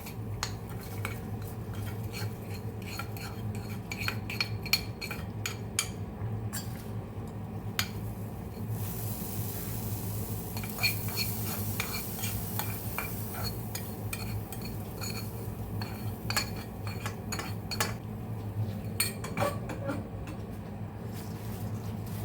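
Thin red poha being stirred and mixed with hot tempering in a pan, with repeated clinks and scrapes of a spoon against metal over a low steady hum.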